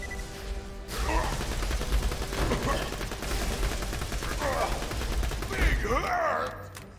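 Sustained rapid gunfire in Borderlands 2's Tiny Tina's Assault on Dragon Keep, with dense bursts and impacts over several seconds and occasional grunting voices in the mix.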